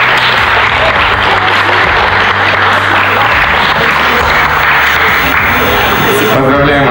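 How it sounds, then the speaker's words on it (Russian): Loud audience applause for a group of singers after a song at a televised singing competition, dense clapping under a low musical bed, with voices surfacing near the end. "Ваши аплодисменты."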